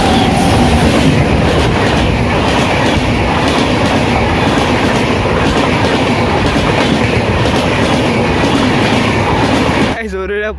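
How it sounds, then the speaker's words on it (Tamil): A train thunders past very close beside the railway track, a loud continuous roar of wheels and carriages with rhythmic clatter that drops away abruptly at the end. "12:30 மணிக்கு வந்து பார்த்தீங்கன்னா ஒரு ட்ரெயின் வருது."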